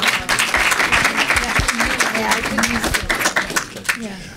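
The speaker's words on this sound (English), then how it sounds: "just one more round of applause for our speakers" Applause for speakers at a water-activities conference session, a short burst of clapping mixed with audible talking in the room.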